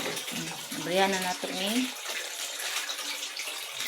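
Tap water gushes steadily into a container being filled for hand-washing laundry, a constant rushing flow while someone speaks briefly over it.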